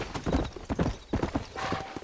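Horse hooves clop in a quick, rhythmic gallop in the video game Red Dead Redemption Remastered, close and clear with distinct repeated hoofbeats and no talk.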